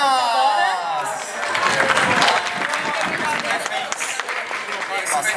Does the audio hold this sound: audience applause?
yes